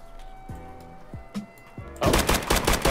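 Gunfire in the video game Escape from Tarkov, a few sharp single shots from a Mosin rifle followed by a sustained loud fusillade from other guns, close and dominant.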